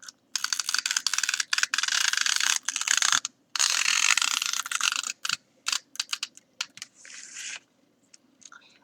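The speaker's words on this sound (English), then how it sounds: "I'm going to go ahead and use my tape runner." A tape runner applies adhesive to journal paper in close, dry ratcheting bursts, several long rasping runs broken by short pauses, then a few brief clicks as the strokes end.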